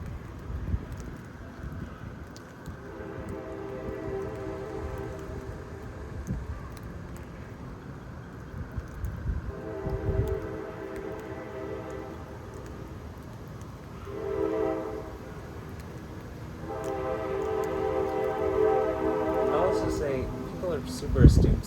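A train horn in Houston, Texas during an evening lightning storm blows in several long sustained blasts, some overlapping, heard at a moderate distance over wind noise and a low rumble.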